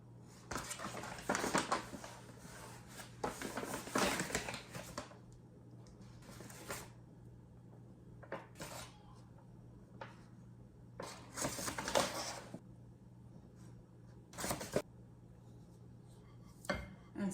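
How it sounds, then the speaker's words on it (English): Four cups of flour going into a salted sourdough mixture in a home kitchen: scattered clinks and scrapes of measuring cups and utensils against a bowl, with soft patters and squishes, in short bursts separated by quiet pauses. "And then we're going to add our 4 cups of flour."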